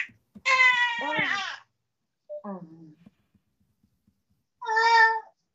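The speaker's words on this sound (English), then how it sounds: "your baby is crying" A baby nearly three months old cries in three short bursts: a wavering wail, a lower brief whimper, then another sharp cry, with quiet gaps between.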